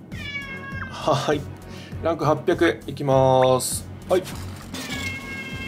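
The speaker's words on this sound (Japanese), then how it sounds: "後ろで三毛猫ちゃんがニャンニャン泣いてますけども。" A calico cat meows repeatedly in the background, a string of drawn-out, rising mews heard beneath a man's chatter during a mobile puzzle game gacha session.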